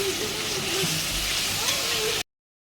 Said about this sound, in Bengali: ভালো করে মশলাটাকে এরকমভাবে কষিয়ে নেবে